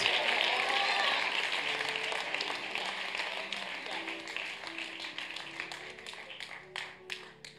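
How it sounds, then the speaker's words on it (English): A church congregation at an evangelistic service claps their hands in a sustained wash of applause that is loudest at the start and then thins into scattered sharp claps, with faint voices underneath. "Somebody clap your hands for Jesus."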